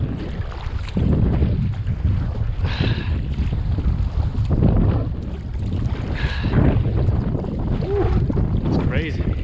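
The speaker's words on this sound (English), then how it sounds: "Oh man, it's windy." Strong wind buffets the microphone in a steady low roar from a kayak on Puget Sound, with water sloshing nearby and brief bursts of talk.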